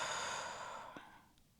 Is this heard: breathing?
yes